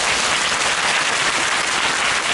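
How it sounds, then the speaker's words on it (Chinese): A concert audience at a charity concert in a Taipei university hall claps steadily, a dense and continuous wash of applause that carries through without a break. "我们是不是可以掌声一下？"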